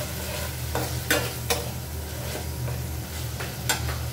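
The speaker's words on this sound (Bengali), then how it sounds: "মশলাটাকে আমি ভালো করে একটু কষিয়ে নিব" Spice masala with ginger paste and chopped tomato frying in a pan, a steady close sizzle with several sharp spatula scrapes spaced irregularly throughout.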